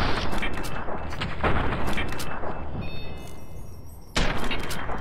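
Gunfire in Fallout: New Vegas, a dense, loud stretch of repeated shots and impacts with sharp bursts around the middle and near the end, layered over constant game ambience.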